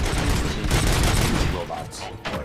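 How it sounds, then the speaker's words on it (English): Gunfire from a shootout in the video game RoboCop: Rogue City, a dense, loud burst of rapid shots filling most of the moment before easing off near the end, with a voice briefly cutting through. "Gunshots? What's going on?"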